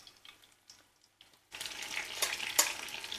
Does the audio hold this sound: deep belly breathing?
no